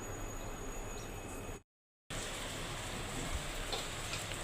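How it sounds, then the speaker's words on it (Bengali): Rain falls outside under a heavily overcast sky, a steady, soft hiss heard from indoors during home cooking, cut off by a half-second gap of silence before it resumes. "বাহিরে বৃষ্টি পড়তেছে, দেখেন একেবারে মেঘলা মেঘলা হয়ে গেছে।"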